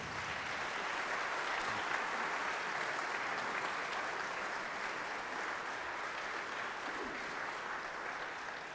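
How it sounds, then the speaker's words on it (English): An audience at a Methodist church concert gives the chancel choir members a big, sustained round of applause, a dense, even roar of clapping that continues steadily throughout. "I hope that you'll join me in a big round of applause for our choral members."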